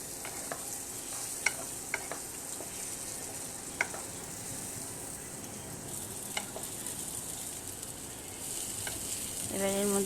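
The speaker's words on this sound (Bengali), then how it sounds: "এটা বেশ ভালোই ভাজা হয়ে গেছে, আর একটু নেড়ে নেব এগুলোকে।" Ingredients for sago pulao frying in a pan while being stirred: a faint, even sizzle runs throughout, punctuated by a handful of sharp spatula clicks and scrapes, growing slightly louder toward the end.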